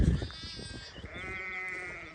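Lambs bleating on a farm during lambing season, a drawn-out wavering bleat followed by another sustained one, fairly close and clear with no talking over them.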